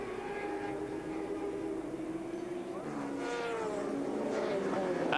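A big Kawasaki endurance racing motorcycle, ridden by Terry Rymer at the 1997 Bol d'Or, approaches and passes with a rising engine whine that swells louder toward the end, heard over a race commentator's voice.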